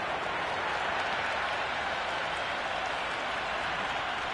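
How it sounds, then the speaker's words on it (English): Crowd noise from spectators at a cricket match in the video game Cricket 26, a steady broadband wash of applause and cheering that holds evenly throughout, distant and moderately quiet. "all these spectators here today are completely enthralled and energised, judging by the noise"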